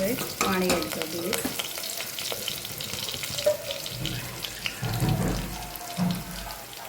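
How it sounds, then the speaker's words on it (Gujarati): Water poured into a pot of potato curry cooking on a home stove, with stirring and splashing sounds heard close by and no talking. "પાણી એડ કરી દઈએ."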